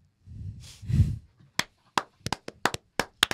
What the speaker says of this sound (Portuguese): Palmas, Diogo.